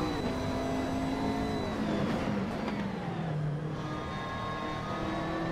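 GT3 race cars in a sim racing game pass down the start-finish straight at Donington, with layered engine tones rising and falling as they go by. The engines blend into a continuous roar of moderate loudness.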